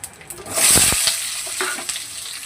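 Potatoes are tipped into hot oil in a wok that already holds bay leaf, cumin and dried chilli. A sharp burst of loud sizzling follows, then settles into a steadier fry with a few spoon scrapes and crackles.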